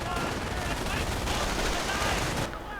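Machine gun fire in a World War II strategy game, with dense continuous gunfire and explosions over a few seconds, partly under a commentator's voice.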